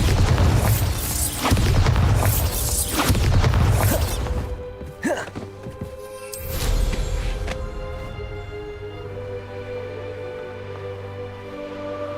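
Bombarda blasting spells explode in Hogwarts Legacy, several heavy booming bursts in the first few seconds, then a sharp crash and a final blast fading into lingering rumble and tonal music.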